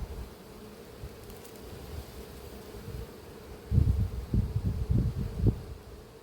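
Honey bees hum around an open hive while a colony is split, a low continuous drone with louder rustling bursts near the end as frames or bodies shift close by.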